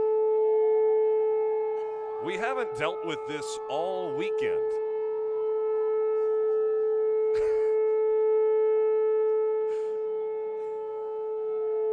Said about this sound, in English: and here we go, a siren as well.